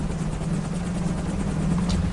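Helicopter in flight on a long over-water trip to an offshore oil platform, a steady droning rotor and engine hum held evenly throughout, loud and close as if heard from inside the cabin.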